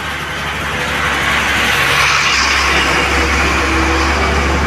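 A truck passes on a road in the rain during an early-morning trip, its steady engine rumble and tyre noise filling the scene, loud and close, with no talking.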